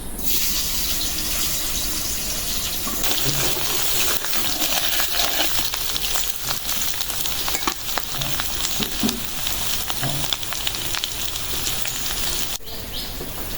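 Potatoes fry in hot oil in a fish-curry kitchen, a steady dense crackling sizzle running unbroken and close, with occasional faint clinks of a utensil in the pan.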